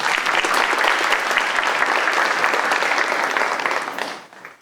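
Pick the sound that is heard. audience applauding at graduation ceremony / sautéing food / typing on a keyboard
audience applauding at graduation ceremony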